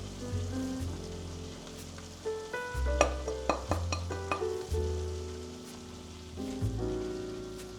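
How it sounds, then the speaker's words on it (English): Chicken being mixed by hand or spoon with red pepper powder, chili flakes, thyme, cumin and black pepper: wet squelching and tapping in a bowl, a cluster of clicks mid-way, close and moderately loud, no talking. "Mix well."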